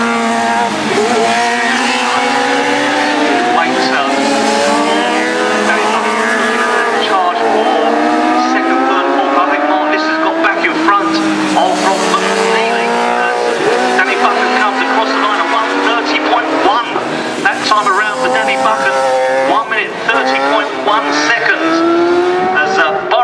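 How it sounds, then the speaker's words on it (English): Kawasaki ZX10 superbike racing at Cadwell Park, its engine screaming loudly and steadily through rising and falling revs, with a commentator talking over it. "for Danny Buchan on the MSX Kawasaki, the ZX10 at noon 2011. ZX10 as he charges into Hall Benz"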